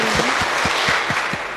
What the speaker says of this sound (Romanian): O aplaudăm din toată inima